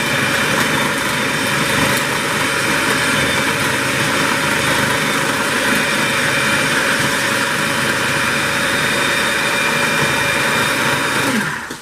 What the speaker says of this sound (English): I put those peppers in the chopper.